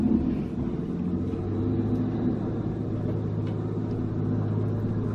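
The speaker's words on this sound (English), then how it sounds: "So here's the plow truck that plows our road." A snow plow truck drives along a rural road in snowy northern Michigan, its low engine rumble steady and moderately close for the whole stretch, with no talking.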